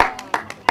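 A few scattered audience members clap at a supper club comedy show, four sparse, separate claps spread over under a second, close and distinct rather than full applause.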